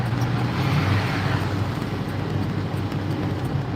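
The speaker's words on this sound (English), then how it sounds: "Now, this is where it's really bad, traffic-wise." Freeway traffic is heard from inside a delivery driver's car, a steady low road rumble and engine drone that stays close and moderately loud throughout, with no voices.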